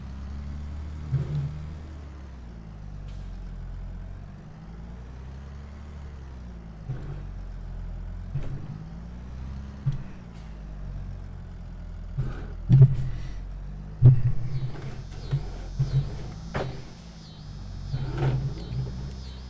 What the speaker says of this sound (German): Drescher läuft, glaube ich, der Motor noch.